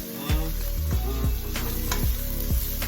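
Brown butter and stuffing sizzle in a pan as they heat for stuffed pork chops, a continuous close hiss with rhythmic low thumping tones underneath.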